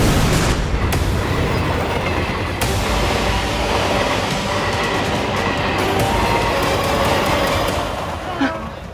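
A train runs loudly on its rails in a superhero TV series, a continuous roaring rumble with sharp clattering bangs early on, fading slightly toward the end.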